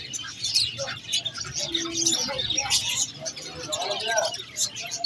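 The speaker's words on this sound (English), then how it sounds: "So many birds." Birds chirp and coo at a bird market in Ghazni, many pigeons and small songbirds calling in a busy overlapping chatter, close and lively, under people talking.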